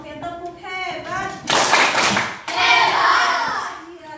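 A group of children and adults in a school guidance-counselling session claps together in a quick rhythmic burst. The clapping comes in sharp bursts between spoken and chanted lines.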